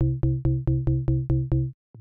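FAC Drumkit synth drum voice with phase modulation switched on, struck eight times in a steady quick rhythm, each hit a bright ringing tone that decays before the next, then a brief pause and a soft new onset.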